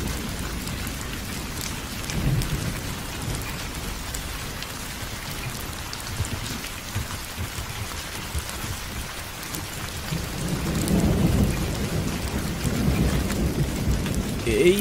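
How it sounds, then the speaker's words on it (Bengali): Cartoon-style sound effect of a heavy downpour, with a steady loud hiss of rain drumming on surfaces and deep thunder rumbling that swells louder toward the end, with no voices. "এই বৃষ্টি এখনই থামবে বলে তো মনে হচ্ছে না।"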